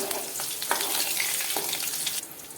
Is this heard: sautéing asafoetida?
yes